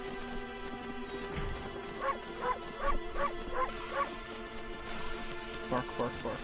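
A dog barks repeatedly in the video game Okami, a run of short, regular yips over a steady game soundtrack with someone talking throughout.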